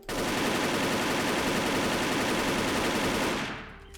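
A rifle in the online shooter Wolfteam fires one long, loud, unbroken automatic burst of rapid shots for about three and a half seconds, then cuts off abruptly, with no voices.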